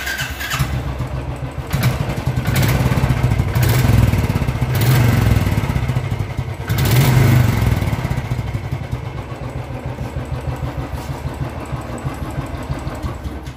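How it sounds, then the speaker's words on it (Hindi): Royal Enfield Bullet 350 motorcycle engine with its stock bend pipe silencer, a steady low thumping idle with a few throttle blips swelling louder, heard close up with no talking. "इस ये जो साइलेंसर है स्टॉक साइलेंसर, इसमें काफ़ी कम आवाज़ आती है"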